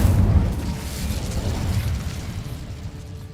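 Incendio fire spell cast in Hogwarts Legacy bursts with a heavy, close boom and whooshing roar that slowly fades over a few seconds.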